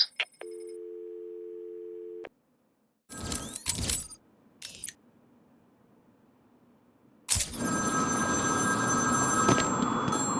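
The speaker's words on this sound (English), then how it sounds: "There's a phone ringing somewhere." Ringing phone in Batman: Arkham City, a steady electronic tone that cuts off, then rattling game effects, quiet room tone, and a loud sustained burst of game noise.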